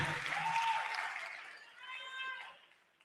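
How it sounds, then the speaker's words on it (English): A brief burst of audience clapping at a memorial service for Seputla Sebogodi at the State Theatre fades quickly, with a few raised voices calling out in the crowd as it dies away. "Let's give Mitleko another round of applause."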